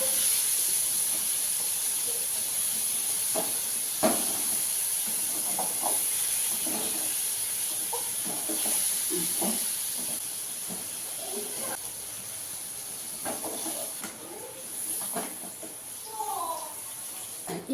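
Paneer cubes frying in a pan give off a continuous hissing sizzle, steady and close, while a person talks intermittently over the cooking sound.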